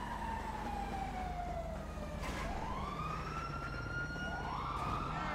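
Police car siren in GTA Online, a wailing tone that sweeps down and then up again over a steady engine and road rumble, with no one talking.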